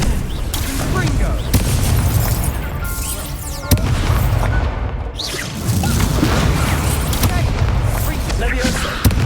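Repeated Confringo fire-spell explosions in the wizard action game Hogwarts Legacy, heavy booming blasts recurring through a dense, loud combat mix with speech-like voices mixed in.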